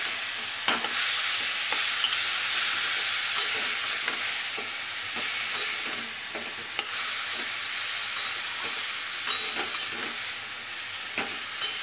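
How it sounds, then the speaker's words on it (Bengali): Radish pieces stirred in a hot pan, a steady close sizzle and hiss with scattered scrapes and taps of the spatula throughout, no voices. "এখন নেড়ে নেব।"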